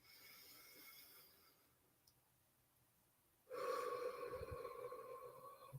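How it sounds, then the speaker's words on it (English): A deep inhale drawn in through the nose as part of a guided breathing exercise, starting as a soft airy breath and swelling into a louder, close, rushing snort-like intake near the end. "Take this deep breath with me."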